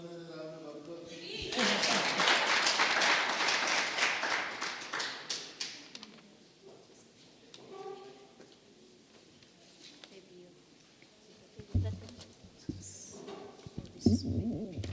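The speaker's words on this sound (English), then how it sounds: "Give the governor a round of applause." A crowd applauds the governor at a formal regional census profile launch in Otjozondjupa, a few seconds of clapping swelling and fading before speech resumes, with a voice talking over the room.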